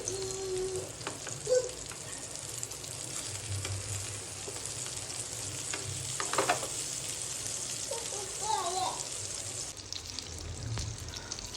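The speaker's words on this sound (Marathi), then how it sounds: "आता आपण गॅसची फ्लेम मीडियम करून घेऊयात आणि दोन ते तीन मिनटे एका बाजूने फ्राय करून घेऊयात" Semolina-coated Bombay duck (bombil) fish frying in a pan over a medium flame gives off a continuous close sizzle with occasional soft pops and spatters, and no voices.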